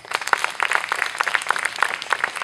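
Scattered clapping from a small audience thanking volunteer teachers at a summer performance class, a steady patter of hands that continues throughout without voices.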